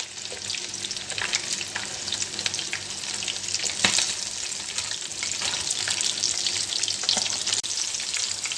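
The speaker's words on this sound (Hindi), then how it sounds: "इसको हल्की आंच में फ्राई करते करते आपने बार बार पलटना है" Chicken pieces for crispy KFC-style broast fry in oil over low heat, giving a steady close hiss and crackle throughout with a few brief sharper pops and no talk.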